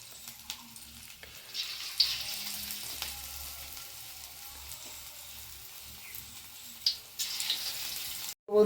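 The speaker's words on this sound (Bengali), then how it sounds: "এবার দেখো এই পকোড়ার আকারে এগুলো সুন্দর ভেজে নেব" Potato and carrot pakoras deep frying in hot oil, a soft steady sizzle with occasional louder bursts as pieces are added or moved, fairly quiet and close, no talking.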